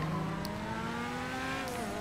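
In the GTA 5 video game, a Bestia GTS with a custom exhaust holds a steady, tonal engine drone with slowly shifting pitch and a couple of brief higher blips, playing alone.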